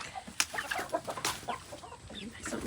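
Chickens clucking and squawking around a garden where the animals are being fed, several busy overlapping calls close by, with a brief rustle between them.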